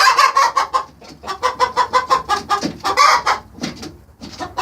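A Plymouth Rock hen clucking close by in a quick run of short, sharp calls, pausing briefly then carrying on, with no other sounds around it.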